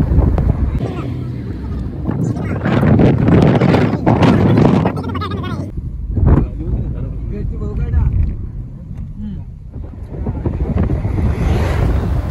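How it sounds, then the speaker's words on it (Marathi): Strong wind buffets the microphone on a mountain road, roaring in loud gusts with rumbling low noise, while someone talks over it at times. "वरच्या दिशेने चालू आहे तशी हवा जास्तीत जास्त वाढत चाललेली आहे"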